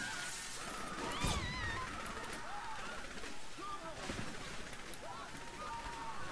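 Gunfire in the video game Saints Row: The Third, sharp shots and crashing impacts scattered across a few seconds, heard under faint background sounds, with sirens or whistling tones mixed in.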